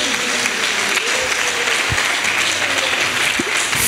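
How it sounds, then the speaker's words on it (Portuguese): Steady applause from a church congregation fills the whole stretch, dense clapping at an even level with no voices standing out. "Você pode aplaudir Jesus?"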